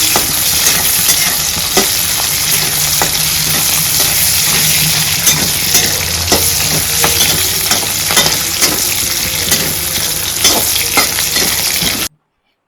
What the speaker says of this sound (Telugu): ఇవన్నీ ఫ్రై చేసుకోవాలి.